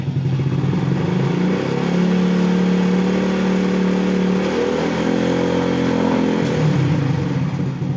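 Honda Wave 110i motorcycle engine, close up, revving from idle up to about 5000 rpm, holding a steady buzzing drone and then dropping back, loud and alone.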